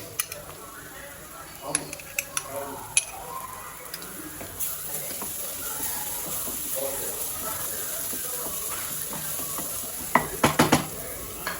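Ginger garlic paste sizzles in a pan with onions while it is stirred for a mixed vegetable curry. A spoon clinks and scrapes against the pot over a steady soft frying sound, with a few sharper knocks near the end.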